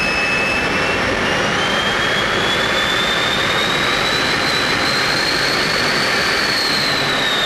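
Lockheed T-33 jet engine spooling up from idle, a loud, dense roar with a rising whistling tone climbing steadily throughout, continuous and close with no breaks.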